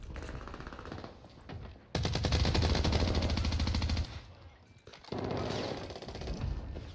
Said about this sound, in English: Getting shot from the back, I guess?